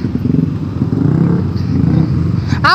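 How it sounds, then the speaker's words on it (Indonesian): Honda Sonic 150R motorcycle engine idling steadily up close right after a crash, a low continuous rumble with a brief sharper burst at the end. "Aman aman motor gua mah nyala. Udah nyala."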